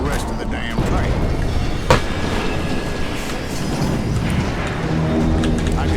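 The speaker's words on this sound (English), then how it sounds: "Jesse detached the express car from the rest of the damn train." A moving train in the western video game Call of Juarez: Gunslinger gives a continuous low rumble and rattle, with one sharp metallic clank partway through.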